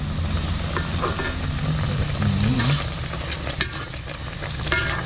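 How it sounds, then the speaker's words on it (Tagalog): Adobong bangus, milkfish adobo with sliced chilies, bubbles and sizzles in an oily pan, a steady close frying hiss with scattered sharp crackles and a few stirring scrapes. "kumukulo-kulo na yung ating adobong bangus"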